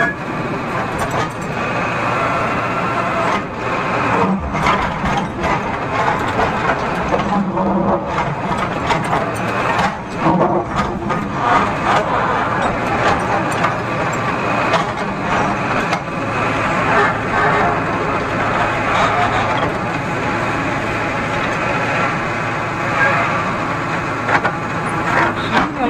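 A Tata JD 315 E backhoe loader digs soil with its bucket during pipeline work, its diesel engine droning loud and steady throughout, with intermittent clanks and surges as the arm and bucket move.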